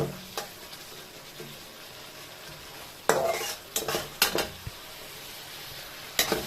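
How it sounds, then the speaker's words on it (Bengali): Potatoes being stirred in a metal kadai over a steady frying sizzle, with sharp scraping clatters of the spatula against the pan in a few separate bursts. "যেমন আমি কড়াতে রান্না করছি"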